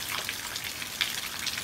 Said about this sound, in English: Are you playing in the rain?